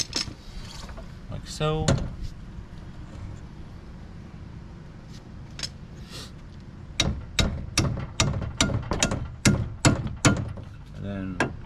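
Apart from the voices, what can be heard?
hammer tapping strut part into place on Ford Focus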